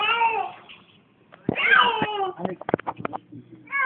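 A frightened cat gives a long meow, then a louder, strained cry, followed by short clicks and knocks and another meow starting at the end. The sounds are close and no one talks over them.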